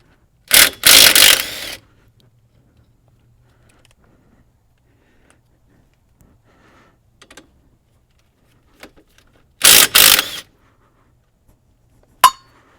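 Ratchet working two 18mm nuts off the studs holding a strut knuckle on a GM Chevy Cobalt or Pontiac front strut, heard as two short bursts of rapid metallic clicking separated by quiet, with a single sharp clink near the end.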